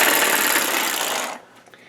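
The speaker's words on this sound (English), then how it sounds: "And we have a little hammer chisel here." A small pneumatic hammer chisel runs off a compressor air hose with a loud, harsh, rapid rattle. It then cuts off abruptly, leaving quieter background noise.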